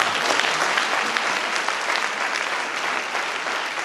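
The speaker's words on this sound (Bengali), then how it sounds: "নতুনদের জন্য জোরে একটা করতালি হবে।" Audience giving a loud, sustained round of applause, dense and continuous clapping from many hands throughout without any break.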